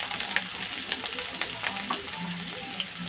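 Chopped chili and onion frying in white oil in a pan, a close, moderately quiet crackling sizzle with quick pops and stirring, no speech.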